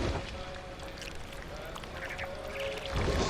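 A duck quacks in the video game What Remains of Edith Finch, several short nasal calls over a dense, steady wash of background noise resembling flowing water.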